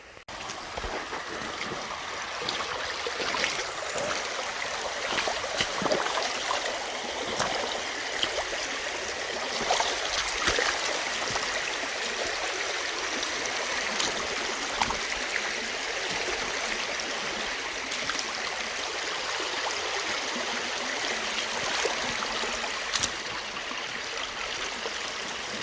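A creek in West Virginia flows steadily, giving a continuous broad rushing and gurgling wash of water, close and even in loudness throughout, with no voices.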